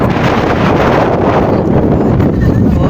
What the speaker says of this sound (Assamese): ইয়াত তামাম বতাহ দি আছে।